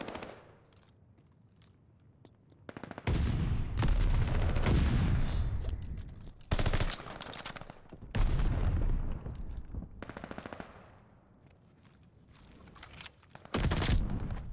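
Rapid bursts of gunfire punched through a wall in a competitive shooter game, several loud sustained volleys separated by short quiet gaps, with no talk over them.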